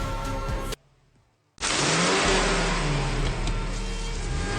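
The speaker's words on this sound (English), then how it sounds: "He jumps into the car and floors it" A car engine roars and climbs in pitch as the driver floors the accelerator, loud and close, following a brief hush after an earlier burst of sound.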